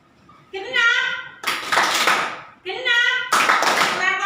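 Children in a classroom counting game clap their hands in unison, two bursts of group clapping alternating with children's voices calling out.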